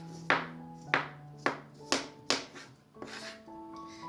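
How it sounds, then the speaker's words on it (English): A kitchen knife cutting fresh ginger for kimchi makes five or six sharp, evenly spaced chops on a board, close up and fairly quiet, with a steady low hum underneath. "Cutting the ginger."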